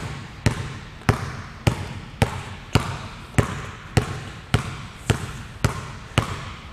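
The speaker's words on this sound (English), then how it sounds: "And we're going to shoot for 20 dribbles." A youth dribbling a basketball on a hard floor in a beginner drill, about a dozen evenly spaced sharp bounces at a steady, unhurried rhythm, close and clear with no talking.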